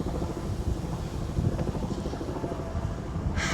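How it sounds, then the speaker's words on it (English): Helicopters hover overhead in Boston near the Massachusetts State House, a steady low rotor rumble with some wind noise, continuous and moderately loud from above, with no talking. "we can't have all these helicopters hovering overhead for nothing"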